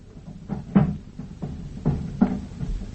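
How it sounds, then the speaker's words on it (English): A series of dull thumps and scraping knocks as furniture is shoved against a door to barricade it, muffled and close, several irregular bumps over a few seconds with no talk. "Sounds as if he's moving the furniture about. He's barricading the door."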